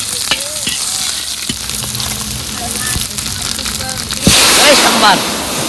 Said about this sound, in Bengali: এখন দেবো ডাল সোমবার, ফোড়নে দিয়ে দিলাম শুকনো লঙ্কা, তেজপাতা, পেঁয়াজ